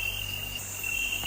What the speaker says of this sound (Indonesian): Angin, ya suara angin, suara jangkrik itu